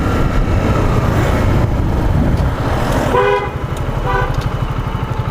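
A motorcycle horn gives two short, thin toots in a row over loud, close engine and road noise on a hill.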